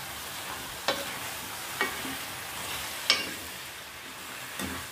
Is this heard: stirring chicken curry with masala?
yes